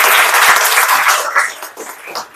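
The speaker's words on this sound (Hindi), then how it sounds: "एक बार जोरदार तालियां बजाइए" A seated audience at a youth career-counselling event in New Delhi breaks into loud applause that starts dense and close, then thins into scattered claps and tapers off within a couple of seconds.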